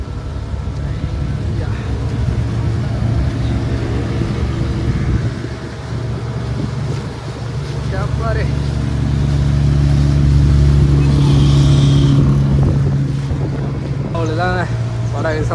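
A motorboat engine drones steadily over Ooty Lake with wind buffeting the microphone, a few faint voices and bird-like chirps in the background.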